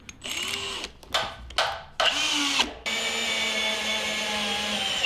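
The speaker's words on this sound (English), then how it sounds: "we do need to drill 2 more holes on each side because our new stainless mount has 4 holes on each one" Power drill boring holes into a Humvee frame, several short whining bursts with pauses and then one long steady drilling run, loud and close.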